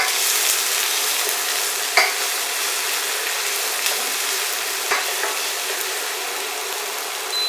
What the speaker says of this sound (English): sweat these shallots. And like brown them, we don't want to really like cook them real fast.